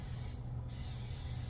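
A short, close burst of cooking spray hisses onto the top and bottom plates of a waffle maker, a steady breathy spray lasting about a second over a low background hum.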